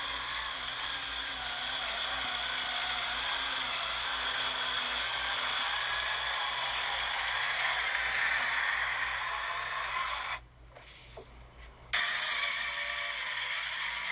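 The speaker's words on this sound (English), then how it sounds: "Now we're going to cut the edges." A power tool cutting the edges of an epoxy table whines steadily for several seconds, briefly cuts out, then starts up again at full volume.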